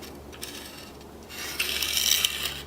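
Wooden bow drill spun with a rawhide string to make smoke, a rasping, rubbing friction that is quiet at first, then grows louder and busier in the last second.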